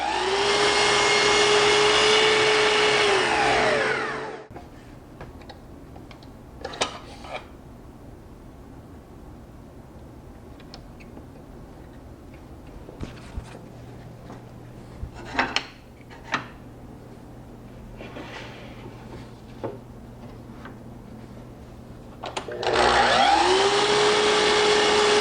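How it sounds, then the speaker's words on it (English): A miter saw cuts wooden boards for a vanity cabinet face frame. It whines loudly up to speed and bites through the wood, falls quiet for a long stretch broken by scattered knocks and clatter of boards, then roars through another cut at the end. "I'm going to go over my miter saw and I'm going to start cutting those parts out."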